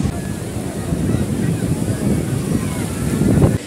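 Sea waves and strong wind on Digha beach, a loud continuous rush of surf with buffeting wind noise on the microphone, swelling slightly toward the end with no voices.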